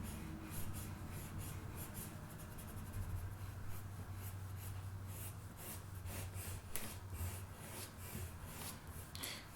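A pencil shades the dark shadow core of a drawing of Han Solo's blaster with steady, soft scratchy strokes that rub continuously across the paper. The sound is quiet and close.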